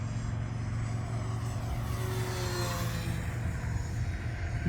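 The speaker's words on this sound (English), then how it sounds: "we'll do a full speed pass on 4S power here" E-flite Valiant electric RC plane on 4S power making a full-speed pass, a steady loud propeller whine and motor drone that rises in pitch as it sweeps past, with constant wind noise.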